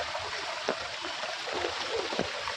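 Strong water from a small waterfall on a farm rushes and gurgles in a steady, fairly faint stream, with a few brief splashes over the constant flow.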